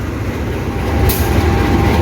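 A Tegal Bahari economy train, KA319, departs Tegal station with a loud, close, continuous rumble of rolling railcars and a brief hiss partway through, no talking.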